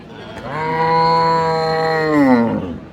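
A Friesian cow at the Raniganj cattle market in Dinajpur gives one long, loud moo close by that holds steady for about two seconds, then bends downward and fades.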